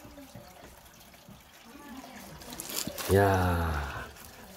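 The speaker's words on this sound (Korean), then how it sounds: "지금 민물로 수돗물을 지금 일단은 따라놨어요" Tap water poured into a container to hold freshly caught mud shrimp from a tidal flat, a short gushing pour near the end following faint talk and background noise.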